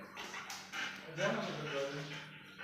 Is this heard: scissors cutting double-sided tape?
no